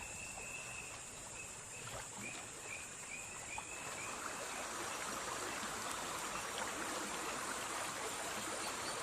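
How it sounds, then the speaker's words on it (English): A river flows steadily in the open, a broad rushing wash of water with faint splashing near the start and a quiet high ringing tone above it. "I'm having a wash in this gorgeous river."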